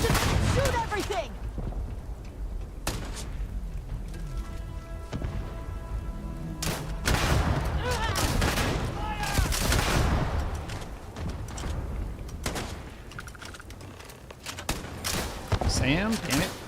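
Gunfire in the sci-fi video game Starfield, with a dense run of sharp shots and bursts scattered through a chaotic firefight, some close and loud, mixed with thuds and clatter.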